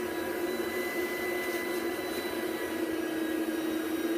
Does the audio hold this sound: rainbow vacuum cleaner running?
yes